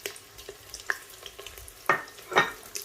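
Soya chunks frying in oil in a home kitchen pan, soft sizzling with a few sharp scraping stir strokes and clicks, fairly quiet and close.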